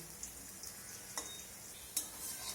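Thinly sliced potatoes frying in oil in a kadai, a faint steady sizzle with a few light taps of a spatula stirring, quiet and close, without speech.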